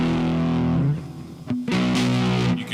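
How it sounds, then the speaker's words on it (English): Custom-built cherry and walnut electric guitar played through distortion on its neck pickup, a thick, fat tone ringing out in sustained chords with a brief pause midway before the strumming resumes. "The neck pickup with distortion."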